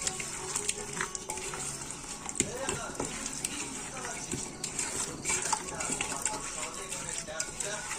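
Food frying in hot oil in a home kitchen while being stirred, a busy crackling sizzle broken by repeated scraping and clinking of a utensil against the pan, with quiet talk in the background.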